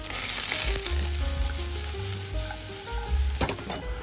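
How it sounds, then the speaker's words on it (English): Steady sizzling of onion and carrot sauteing in butter in a frying pan, loud and close, with a faint clink of a utensil stirring. "In a frying pan, saute onion and carrot in butter."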